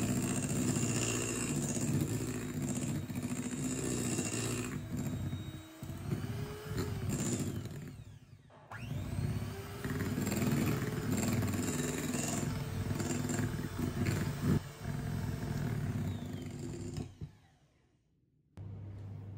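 An electric hand mixer beats sponge cake batter at medium speed, a loud steady motor whir with rattling beaters that runs continuously, briefly dips, and is switched off near the end.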